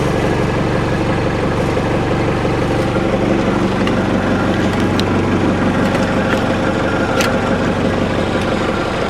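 A Cummins 4BT diesel engine idling just after a cold start, a steady, loud, low rumbling clatter close by with a continuous mechanical knock and no talking.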